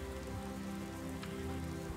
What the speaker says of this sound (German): es regnet wieder und es ist scheiße dunkel